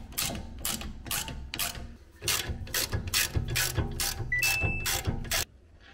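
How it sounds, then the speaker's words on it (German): Loud, close ratchet with a 13mm socket loosening the front brake caliper bolts on an Audi A5/S5 8T Sportback. About a dozen rhythmic clicking bursts run back to back, with no talking. "Dann nehmen wir uns hier eine 13er Stecknuss her und lösen uns die zwei Bolzen von der Bremsanlage."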